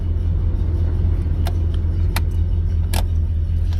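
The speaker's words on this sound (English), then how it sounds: "AC is, the blower is on. There we go. Compressor kicked on." A 1968 Oldsmobile 98 with its air conditioning blower and compressor running on a low setting, making a steady, loud low rumble and whoosh of air inside the car, with a few faint clicks.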